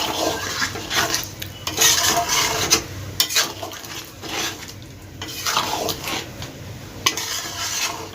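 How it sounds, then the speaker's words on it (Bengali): Chicken pieces in a pot get stirred through green coriander paste, a spoon scraping and clinking against the metal in uneven strokes over a soft, low sizzle. "ভালোভাবে মিশিয়ে নেব মাংসের সঙ্গে"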